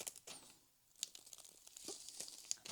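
Silver tape crinkles and tears in short, close bursts as it is applied to a flexible HVAC duct, with quiet rustling between the sharper rips.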